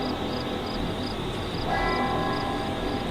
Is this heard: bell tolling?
yes